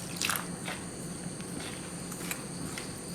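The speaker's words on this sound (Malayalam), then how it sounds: "മാവിന് ആവശ്യമായിട്ടുള്ള ഉപ്പ്, 1 ടീസ്പൂൺ ഓയിൽ, ഒന്ന് മിക്സ് ചെയ്യാം. വെള്ളം ചേർത്ത് കലക്കിയെടുക്കാം." Wheat flour dosa batter is stirred with salt, oil and water, making faint, wet squishing and sloshing sounds in a soft, irregular rhythm, close by and quiet, with no talking.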